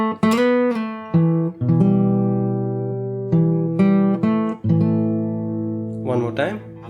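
A fingerstyle guitar repeats a main theme with rolled, plucked chords that ring and decay close up, and a brief burst of activity near the end as a voice seems to come in.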